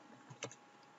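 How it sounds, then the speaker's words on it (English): A short burst of computer keyboard typing, a few quick clicks clustered near the middle, faint and close, with no talking. "Terrible typing."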